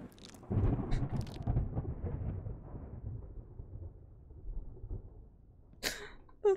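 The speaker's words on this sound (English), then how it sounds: "The thunder scared me." Thunder in the horror game Ready or Not, Witching Hour mode: a deep rumbling crack that swells early and slowly fades into a low grumble, followed by a brief sharp noise near the end.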